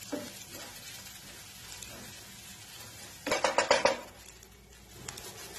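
Onions being sautéed in a pan over a medium flame for a tomato masala, a soft continuous sizzle with a short burst of spatula scraping and stirring clatter partway through, close and fairly quiet.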